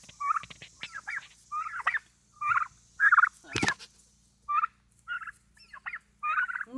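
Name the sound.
turkeys gobbling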